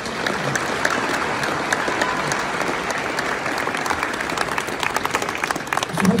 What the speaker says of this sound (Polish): Jeszcze raz wielkie brawa dla niego.